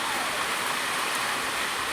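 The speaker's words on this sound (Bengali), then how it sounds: "মুষলধারে বৃষ্টি নেমেছে, আর ওই শিলগুলো পড়বে" Heavy downpour with hailstones striking the ground during a violent storm, a dense, steady roar of rain and hail that stays loud and unbroken throughout.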